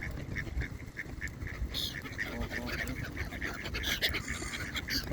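Several geese honk and call for food over one another close by, a busy, insistent chorus with a person talking underneath.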